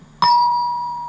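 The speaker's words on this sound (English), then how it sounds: "when you hear this chime" A single bright storybook page-turn chime strikes once, clear and loud, then rings on as a sustained bell-like tone that slowly fades, with no other sound around it.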